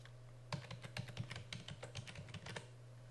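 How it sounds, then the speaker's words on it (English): Computer keys are tapped in a quick, uneven run of close, crisp clicks after a short quiet start, with no talking. "type in command cmd, hit enter, and type in ipconfig, ipconfig"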